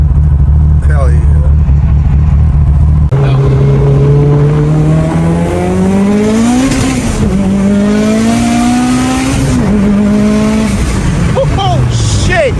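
A Mitsubishi Evo 8 with a budget turbo revs at full boost on a dyno, front wheels spinning, its loud engine note rising through several long climbs and shifts, close and relentless.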